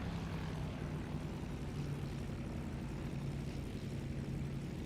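The twin engines of a P-38K fighter plane drone steadily in a War Thunder aerial dogfight, a low continuous propeller hum with a faint, even roar throughout and no talking.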